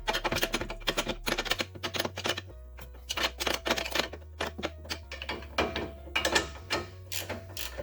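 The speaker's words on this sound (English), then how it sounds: "A 24mm ratchet wrench." Ratchet wrench with a 24mm socket spinning a ball joint nut off the front suspension of a 2017 Ford Explorer, rapid clicking pawl bursts repeating steadily in short strokes, close and clear with no talk.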